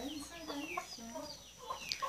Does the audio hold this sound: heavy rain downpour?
no